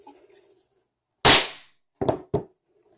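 Toy cap gun caps fire in three sharp, loud pops: one big bang, then a pause and two quicker cracks close together, with no one talking over them.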